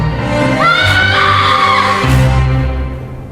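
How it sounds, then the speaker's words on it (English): A girl lets out one long, loud scream that rises in pitch and holds, then drops into a rougher second cry. "let me hear you really scream"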